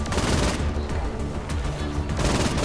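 Gunshots in the video game Saints Row IV ring out as a dense, loud, continuous volley of rapid shots throughout the short stretch, with no pause between bursts.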